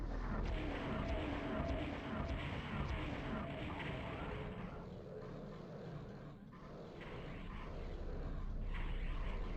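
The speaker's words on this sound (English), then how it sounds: "Now, for some rockets." Rocket launcher fire and rumbling explosions in Doom 64 played on original hardware, a dense, continuous roar of blasts and booms at steady loudness that dips briefly midway before swelling again.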